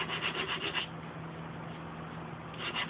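Hand sanding of cured flowable putty, with rapid scratchy rubbing strokes close up at the start and end and a quieter, slower stretch of sanding in between.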